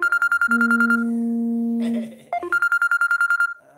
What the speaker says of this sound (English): I'm getting a phone call from Port Angeles, Washington right now.